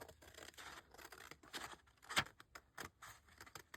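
Scissors cutting paper for a handmade list journal make short, crisp snips and rustling strokes close up, several in a loose rhythm with a sharper click in the middle.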